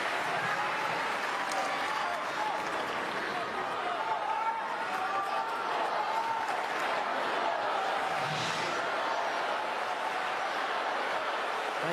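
Tennis crowd murmuring and applauding around the court, a steady, fairly faint wash of chatter and scattered clapping.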